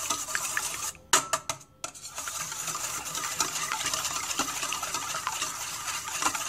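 Egg yolk stirred in a bowl for soft potato puff pastry dough, a steady scraping whirl of utensil against the bowl with a brief pause and a few knocks partway through, close and fairly quiet.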